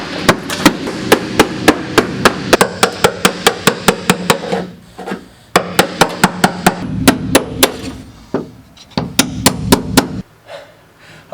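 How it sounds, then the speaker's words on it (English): A body hammer pounds the sheet metal of a car trunk in rapid bursts of sharp, ringing close blows, with brief pauses between volleys and no speech. "I take this body hammer and I go wham! Like 100 times per square inch"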